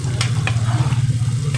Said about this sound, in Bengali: আলুগুলো মোটামুটি হয়ে গেছে ভাজা